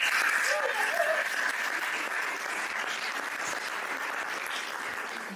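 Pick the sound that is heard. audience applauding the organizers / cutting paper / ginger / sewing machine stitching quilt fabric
audience applauding the organizers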